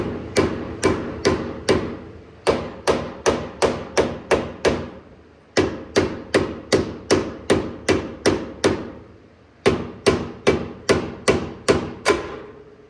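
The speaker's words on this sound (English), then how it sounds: "I have one of these plastic mallets, half plastic, half rubber. I like to use these to get these loose, so you can just give them a good smack." A half-plastic, half-rubber mallet smacks truck suspension parts loose on a 2023 Ford Raptor during a lift install, striking in quick rhythmic bursts of sharp, close, loud hits separated by brief pauses.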